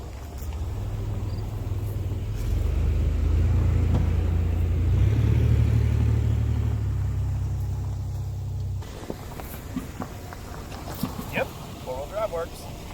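A Chevy S10 Blazer creeping up a hill in four-wheel drive, its low engine rumble steady and close for several seconds before easing off, with people talking over it.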